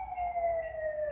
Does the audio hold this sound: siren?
yes